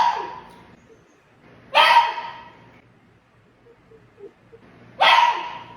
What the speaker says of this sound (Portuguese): ele continua latindo sem parar